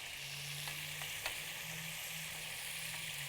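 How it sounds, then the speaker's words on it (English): Onions sizzle steadily in a hot pan, a constant crackling hiss with occasional small pops, close by and fairly quiet. "I love sauteing onions."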